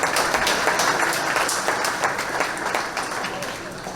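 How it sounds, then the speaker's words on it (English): Sustained audience applause fills a gala hall, dense and steady with many hands clapping at once, gradually easing slightly toward the end. "so she deserves an extra round of applause."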